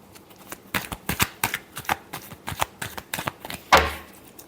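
Tarot cards are shuffled by hand in a series of quick, crisp riffling bursts, about a dozen sharp flutters close to the microphone with no talking.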